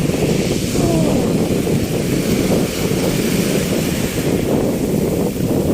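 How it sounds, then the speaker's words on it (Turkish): Sea waves and strong wind at a cold beach roar continuously, with heavy wind buffeting close to the microphone and a faint voice underneath. "Zaten dalgalardan ve rüzgardan belli baksanıza."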